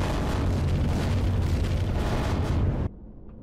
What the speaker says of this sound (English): the explosion isn't as bad as I thought it'd be, but it's destroyed all the top level stuff